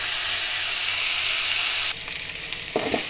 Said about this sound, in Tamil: சூப்பராக எண்ணெயில் நல்லா வதக்கிட்டேன்